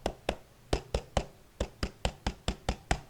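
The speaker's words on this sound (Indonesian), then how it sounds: "Sebelum bernyanyi di sini ada kita mencoba tepuk pramuka." Scout-style rhythmic clapping (tepuk pramuka) done in a classroom lesson: about a dozen sharp, close hand claps in a patterned beat of short clusters and pauses, with no voices.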